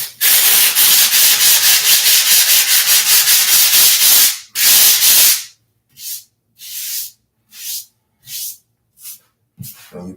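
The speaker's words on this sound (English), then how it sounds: "We got some 80 grit sandpaper on a little rubber sanding block." Sanding a wall by hand with 80 grit sandpaper on a small rubber sanding block, a loud rhythmic scratchy rasp of rapid back-and-forth strokes for about five seconds, then slower separate hissing strokes with short gaps between them.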